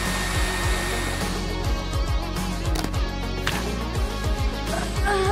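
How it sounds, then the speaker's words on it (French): A hair dryer blows steadily on a cardboard craft figure, a continuous close whirring that runs the whole time beneath rhythmic backing music. "Et on le passe facilement au sèche-cheveux."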